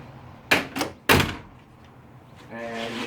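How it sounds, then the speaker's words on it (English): Rear doors of a 1969 Lincoln Continental slam shut in three solid, close thunks in quick succession, followed by a person starting to speak. "I'm going to shut these doors here, the rear doors."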